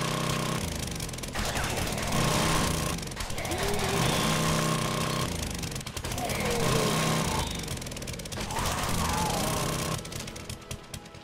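An auger drilling in the video game 7 Days to Die, a loud continuous rattling grind that pulses in long bursts with brief pauses, with a voice talking over it now and then.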